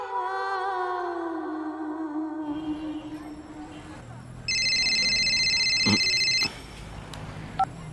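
A telephone in a Hindi TV drama gives a steady electronic ring for about two seconds, then cuts off. Tonal sounds and background noise come before it, and faint ticks follow.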